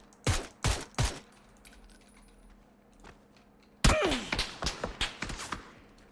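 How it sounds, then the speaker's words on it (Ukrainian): Sharp bursts of gunfire in PUBG come in quick clusters, a few shots first, then a louder rapid volley after a brief quiet stretch. "вони по мені стріляють."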